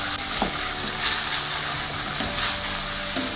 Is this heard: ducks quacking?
no